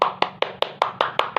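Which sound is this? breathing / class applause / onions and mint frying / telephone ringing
class applause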